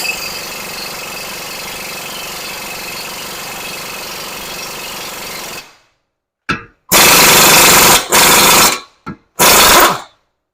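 An impact wrench removes 30 millimeter 12-point axle nuts on a Toyota RAV4, giving loud close rattling bursts after a steady noisy stretch, then several short hammering blasts separated by silences.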